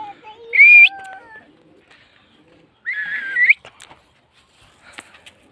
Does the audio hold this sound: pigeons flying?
yes